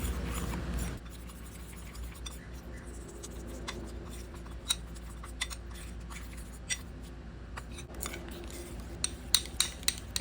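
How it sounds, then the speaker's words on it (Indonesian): Milk being stirred into rice flour in a bowl for a custard pudding, with soft scraping and light clinks of a utensil against the bowl, sporadic taps growing more frequent toward the end, under a steady low kitchen hum. "Ambil sedikit susu, campur ke tepung beras dulu."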